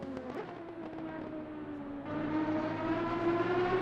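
A V12 race car engine in a racing game at Bathurst holds a steady, droning note, then swells louder and higher as the car accelerates, heard alone without talk.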